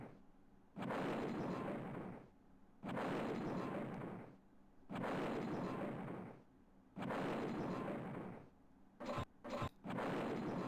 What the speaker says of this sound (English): Okay, and that just creates a bunch of explosions